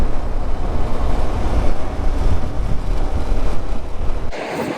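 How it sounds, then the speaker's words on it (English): Strong, continuous wind rushes and buffets across the main beach of Órganos on Peru's north coast. The wind is loud and close, with no clear surf beneath it. "So this is the main beach right here."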